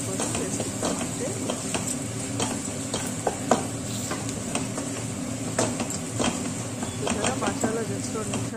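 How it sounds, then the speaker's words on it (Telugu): Masala fries in a pan for a chicken recipe, a steady soft sizzle with light clicking stirs and scrapes spread throughout, close and moderately quiet. "మసాలా జస్ట్ 2 నిమిషాలు ఇలా వేపుకుంటే చాలు"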